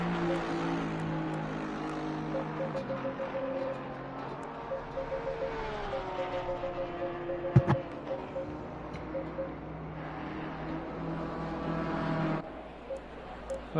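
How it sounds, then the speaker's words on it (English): Porsche race car engine in Assetto Corsa Competizione, a steady droning tone that shifts pitch with the revs and rises toward the end, heard fairly close with no voices. "What we'll do is we'll turn the engine down."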